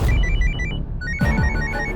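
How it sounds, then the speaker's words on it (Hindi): A telephone rings with a bright repeating electronic ringtone, loud and close, its pattern restarting about halfway through over a soft background. "एक मिनट है, फोन आ गया"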